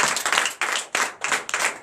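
A church congregation claps in rhythmic bursts during Sunday worship in Comè, Benin, with several loud, distinct waves of clapping separated by brief gaps, close and lively.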